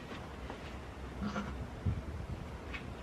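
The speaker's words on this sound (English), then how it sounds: "Don't focus on me, focus on the goat." A newborn miniature goat kid bleats faintly once or twice over steady background noise shortly after birth.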